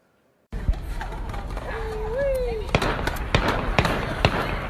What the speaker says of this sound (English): Those are low lethal rounds.